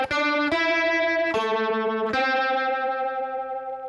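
An electric guitar run through effects with distortion, chorus and echo plays the intro and verse riff of a song, a few sharply picked notes ringing out with long sustain and reverb.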